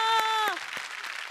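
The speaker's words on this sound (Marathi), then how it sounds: "पुन्हा एकदा जोरदार टाळ्या" Applause breaks out right after a sustained voice on a Marathi TV comedy show, a short burst of scattered claps that continues softly to the end.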